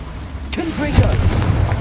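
A Confringo blasting spell bursts in Hogwarts Legacy, a loud booming impact arriving about halfway through, with a rumbling low tail and some voice-like tonal game sounds layered over the blast.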